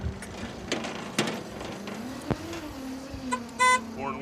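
A 1993 Wollard TML704 maintenance lift platform drives along with a low, steady motor hum, punctuated by a few clunks and a short high-pitched beep or squeal near the end.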